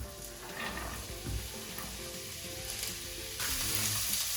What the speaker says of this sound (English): Once the oil is hot, add all the veggies.